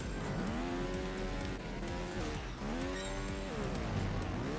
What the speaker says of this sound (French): vous voyez un mec passer en moto comme ça